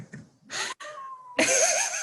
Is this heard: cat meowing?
yes